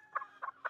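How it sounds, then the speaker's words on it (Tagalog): Three short, close clucks from a chicken come in quick succession, evenly spaced and fairly quiet. "Manok."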